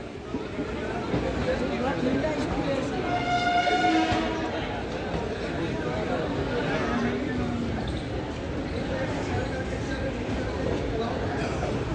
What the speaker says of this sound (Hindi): चल चुकी है हमारी train on time Patiala railway station से